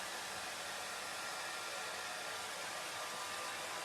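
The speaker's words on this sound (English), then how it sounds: "I think it's time for a bit of a hairdryer" A hair dryer blows in a steady, even whoosh for several seconds, close and constant, with no other sounds.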